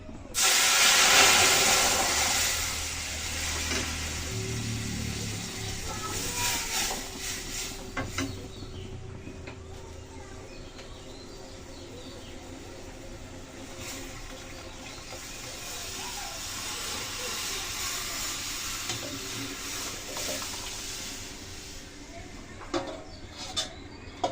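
Dal poured into a hot pan of tempering sets off a loud burst of steamy hissing sizzle, which gradually settles into a softer, steady simmering hiss with occasional faint clinks and no talk.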